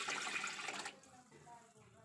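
Water is poured into a cooking pot on a lit stove while making a raw plantain stir-fry. It gives a strong, steady splashing rush for nearly a second, then cuts off, leaving faint kitchen noise.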